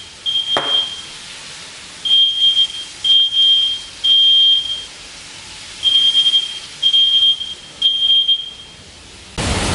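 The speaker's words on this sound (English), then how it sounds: "I'm glad I could make you deaf with our smoke detector." A kitchen smoke detector goes off while chili con carne cooks on a grill, blaring loud, piercing high beeps in repeated bursts with short silent gaps between them.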